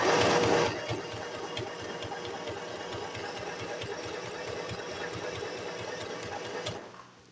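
A domestic sewing machine runs in one continuous mechanical whir with a steady rapid needle rhythm, after a brief louder start, then stops near the end.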